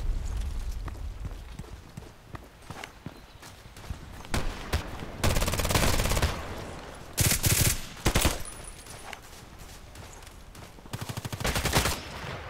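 Repeated gunfire in Contract Wars, an SMG and other weapons firing in scattered bursts and rapid volleys, some loud and close, others lighter, spread across the stretch.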